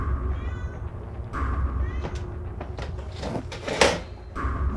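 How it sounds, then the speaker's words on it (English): A domestic cat meows a few times indoors, mid-level and close, over a steady background rumble with scattered knocks and thumps. "I don't like the sound of that meow."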